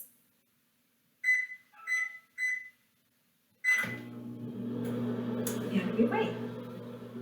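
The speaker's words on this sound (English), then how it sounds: "I'm going to pop it in my microwave." Three short electronic beeps, a pause, then a steady low hum of a microwave oven running with a silk scarf inside, with a brief spoken remark over it.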